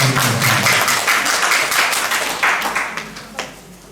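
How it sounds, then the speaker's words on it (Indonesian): A congregation claps at a Christmas and New Year thanksgiving church service, loud dense applause that thins toward the end into a few scattered individual claps. "Terus kita beri tepuk tangan."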